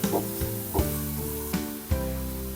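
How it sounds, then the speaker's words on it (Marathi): Chopped onion sautéing in a pan, with a steady close sizzle and a few sharp spatula scrapes that come roughly every second. No one speaks. "आता कांदा आपल्याला एक दोन मिनिट छान परतून घ्यायचा"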